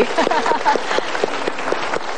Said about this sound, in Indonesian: Tepuk tangan loh Bapak Haji Purwadi.